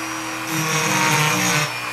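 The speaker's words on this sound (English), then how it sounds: "I just do it like on the third notch on my Dremel tool and just take my time" Dremel rotary tool at a moderate speed carving into deer antler: a close, steady high-pitched whine with gritty grinding that briefly grows louder in the middle of a short burst.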